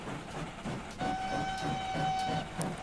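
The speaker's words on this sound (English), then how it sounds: "the sheer amount of road vehicles that I already have on the roads, all with this whistle" Steam whistle of traction engines in Transport Fever 2, a sustained tonal whistle over a steady rumbling train-like drone, fairly loud and continuous, with a few faint tooting pulses layered on top.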